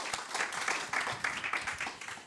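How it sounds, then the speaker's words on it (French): Brief applause from an audience thanking the speakers at a talk on forest fire monitoring, a quiet, somewhat distant patter of clapping lasting about two seconds. "merci messieurs, on vous applaudit"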